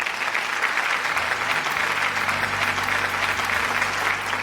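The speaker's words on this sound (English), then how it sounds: "let's give them a round of applause" Guests at a wedding reception applaud the bride's siblings, a dense, steady round of clapping from a full room that carries on evenly throughout.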